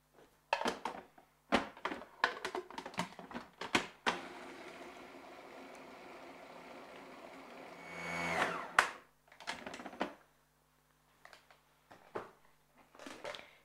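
A kitchen blender grinds vegetables with a splash of water for a few seconds, a steady whirring drone between bursts of clattering and handling noises, with the motor rising in pitch before it stops.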